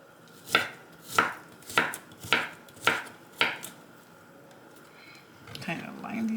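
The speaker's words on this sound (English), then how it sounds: "I'm gonna cut this thinly like this. I'm also cutting these" A knife cuts zucchini thinly into matchsticks on a board, six crisp evenly spaced chops, close and distinct, followed by quieter handling noises.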